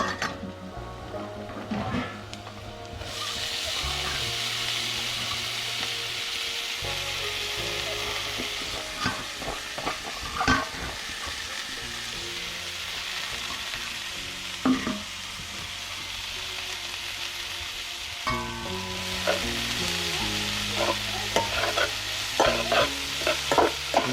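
Cut drumstick flower vegetable sizzles steadily in a hot pan while a spoon stirs and scrapes it in repeated clinks and scrapes, close and continuous.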